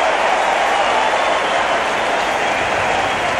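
A cricket crowd at the SCG roaring after a bowled wicket in a 1989-90 Australia vs Pakistan match, a dense, loud, steady wash of cheering and applause with no clear voices.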